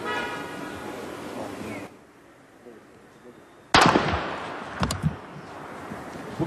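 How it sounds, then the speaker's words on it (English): A single sharp rifle shot from a police sniper cracks out during a SWAT standoff, loud and sudden after a quiet stretch, followed by a few smaller bangs and muffled sounds as people speak faintly in the background. "Here's the moment they shoot him."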